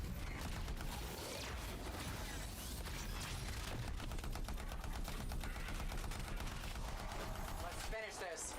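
Rapid weapon fire in the sci-fi shooter game Anthem, a dense continuous clatter of shots layered with game effects and music, with a person talking over it.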